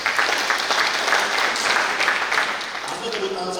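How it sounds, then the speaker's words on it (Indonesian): Applause from a crowd at a church retreat in Jakarta, a steady dense wash of clapping lasting several seconds and gradually thinning toward the end. "tepuk tangan Tuhan dan saudara"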